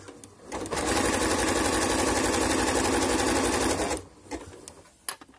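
A sewing machine zigzag-stitches an elastic band onto lycra in one loud, steady mechanical run of about three seconds, then stops, leaving a few light clicks and handling taps.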